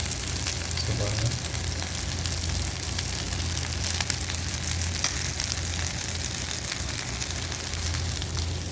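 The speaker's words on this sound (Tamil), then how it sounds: "இன்னொரு சைடு நல்லா ஃப்ரை ஆகும்" Fish frying in hot oil gives a dense, steady sizzle that crackles close and loud for the whole stretch, with no pauses.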